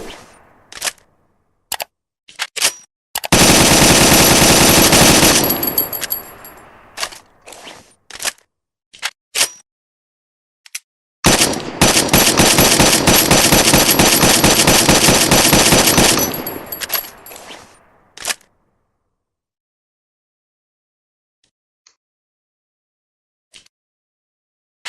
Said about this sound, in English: This is the M14 rifle,